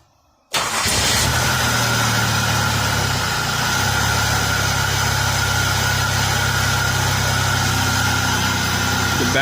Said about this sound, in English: let me see if it starts up